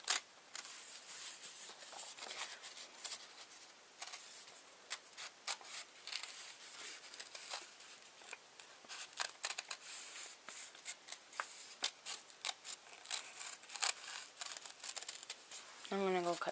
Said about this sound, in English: I'm going to go cut this side real quick